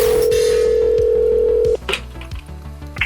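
A payphone handset gives a steady, loud dial tone for almost two seconds, then it cuts off and is followed by faint clicks and handling knocks.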